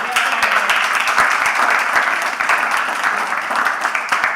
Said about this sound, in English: put together a big round of applause for all of our panelists